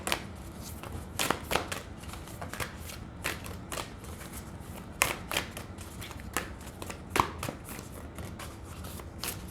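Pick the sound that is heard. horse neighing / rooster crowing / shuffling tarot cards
shuffling tarot cards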